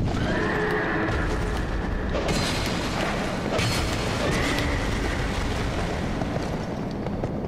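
A horse neighs loudly and hooves clop in the video game Dark Souls 2, a whinny rising over dull rumbling game noise and heavy thuds.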